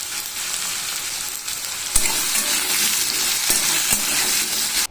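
Potatoes fry in a home kitchen pan with a steady, dense sizzle throughout, broken by a few sharp clinks of stirring around the middle; no voices.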